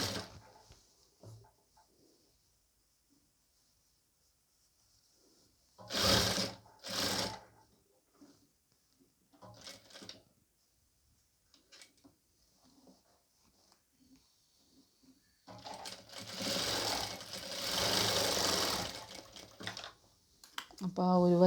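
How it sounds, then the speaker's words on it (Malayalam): A sewing machine stitches the yoke piece of a nighty in two brief bursts and then a longer run of a few seconds, with quiet handling sounds and talk in between. "ഇതേപോലെ യോക്ക് പീസിൻ്റെ മുകൾ ഭാഗത്ത് കൂടി സ്റ്റിച്ച് ചെയ്ത് കൊടുക്കാം."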